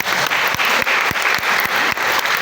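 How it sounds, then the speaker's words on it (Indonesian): Loud, dense applause from a church congregation during a sermon, a continuous wash of clapping with some sharper individual claps standing out near the front. "Kita berikan tepuk tangan"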